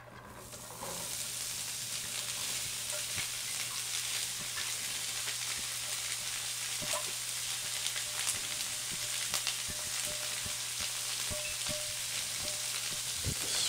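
Corn kernels frying in melted butter in a pan, a steady close sizzle running throughout with small stirring scrapes and pops, no talking.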